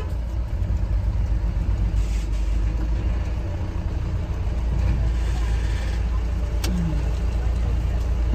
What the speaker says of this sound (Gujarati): અમે પિકઅપમાં સુબાવાના લાકડા ભરીને નીકળ્યા છે મહારાષ્ટ્રમાંથી ગુજરાત જવા માટે